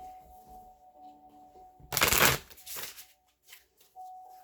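Twin Flame Journey Oracle cards being shuffled in a single brief, crisp riffle burst, close and fairly loud against a quiet background with a faint tone.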